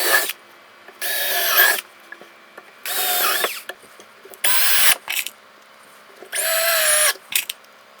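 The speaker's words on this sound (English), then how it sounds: "now let's drill and screw in some screws" A cordless power drill drives screws into a wooden tool box in a workshop, four loud whirring bursts of about a second each separated by short pauses.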